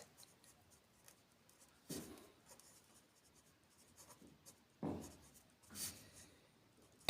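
Marker or chalk strokes on a board as a formula is written in a math class, with several short scratchy bursts spaced apart across a quiet room.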